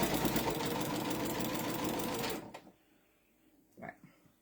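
A sewing machine stitching a quilt binding seam whirs loudly and steadily for over two seconds, then stops, followed by quiet handling noises.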